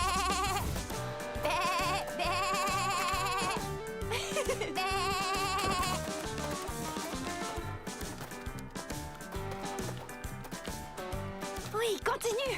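Cartoon goats bleat repeatedly in quick, wavering calls over background music, with voices talking among them.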